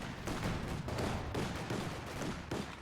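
Heavy tank cannon fire from a Panzer II and a T-70 in Company of Heroes 2, a rapid series of loud booming thumps and crackling impacts in quick succession.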